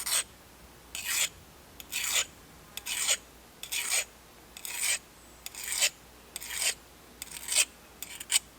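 A file sharpens a digging tool's blade in rhythmic, close rasping strokes, about nine even pushes roughly a second apart, each a bright gritty scrape with a quiet outdoor background between them.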